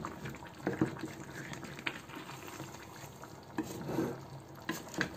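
Meat korma is stirred in a cooking pot that is a little too small, faint wet scraping and bubbling with occasional louder knocks of the spoon against the sides.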